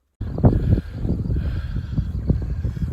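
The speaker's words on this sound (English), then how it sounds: "There's the wind." Wind gusts of about 30 miles an hour buffet the microphone in rough, low bursts after a short silence, swelling and easing unevenly with no voices, along the Colorado River at Glen Canyon, Arizona.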